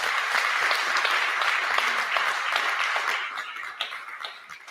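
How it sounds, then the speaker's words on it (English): Audience at a public meeting for justice for Ian Taylor gives a round of applause, dense lively clapping that holds strong before thinning into scattered claps near the end. "So please give mummy a round of applause"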